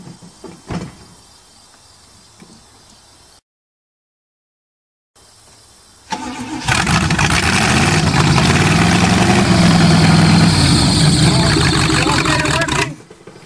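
An old Cheviac car with a rusty, grinding engine is cranked on a cold start. After a silent gap, the engine catches with a sudden loud, rough, continuous roar lasting several seconds before it cuts off abruptly.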